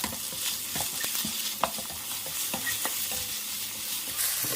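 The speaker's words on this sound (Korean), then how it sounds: "이렇게 볶아주시다가" Kimchi fried rice being stir-fried in a pan, a continuous sizzle broken by repeated sharp clacks and scrapes of a spatula tossing the rice, with no voices.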